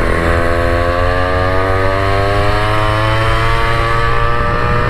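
A Goped GTR scooter's small two-stroke motor running steadily under load, a loud, close, buzzing drone with a rising pitch throughout.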